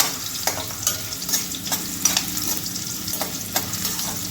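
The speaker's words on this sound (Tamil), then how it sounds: "இன்னும் நல்லா வறுத்து எடுத்துக்கிறேன்" Busy sizzling and crackling of ginger frying in hot oil, steady and close, with occasional stirring clinks and no voices.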